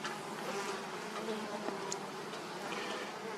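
A dense, steady buzz of many Russian hybrid honeybees at an apiary hive, close and continuous, with no talk over it.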